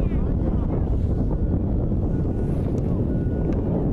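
Wind at an outdoor baseball game, blowing steadily and roaring loudly across the microphone throughout, with faint background sounds underneath.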